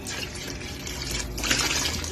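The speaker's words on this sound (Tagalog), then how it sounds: "At lagyan natin ng tubig." Water poured into a cooking pot holding tomato, ginger and miso for sinigang na isda, a steady close splashing and gushing that fills in slightly louder toward the end.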